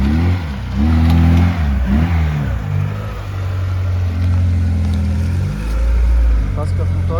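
Car with a 1.7 engine revving in repeated bursts, loud and close, while people talk over it.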